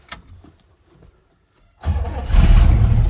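A Pontiac Ventura engine, unstarted for three years, cranks briefly after some faint clinks, then catches and runs loud and steady at close range.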